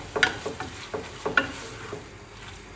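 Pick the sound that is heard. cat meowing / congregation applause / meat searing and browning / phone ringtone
meat searing and browning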